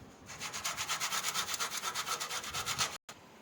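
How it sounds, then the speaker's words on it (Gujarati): Nutmeg is grated into a sweet churma laddu mixture with cardamom and almonds, producing a fast, even series of close, soft scraping strokes that stop abruptly near the end. "અને જાયફળ કસીને નાખી દઈશું."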